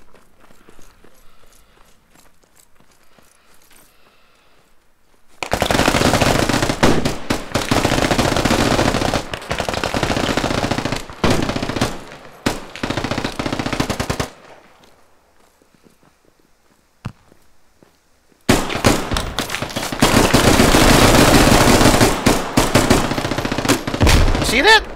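Gunfire in the military shooter game Squad, playing the Canadian Armed Forces, comes as long, loud stretches of rapid automatic fire with sharp individual cracks, broken by a few seconds of near silence before another sustained volley.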